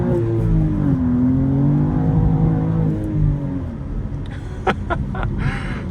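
A manual 2024 BMW M2 accelerates hard from inside the cabin, with the engine note climbing steadily before easing off into lighter road noise and a few clicks.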